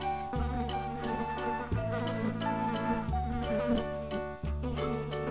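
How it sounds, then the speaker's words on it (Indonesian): A bee buzzes steadily amid tonal background sounds, droning continuously throughout. "masih ada lebah di sini"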